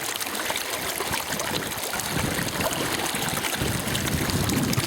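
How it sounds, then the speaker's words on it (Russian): Spring water trickling steadily along the bank of the Dnieper river, a close, continuous babbling flow with no voices. "Ключ, он же родник."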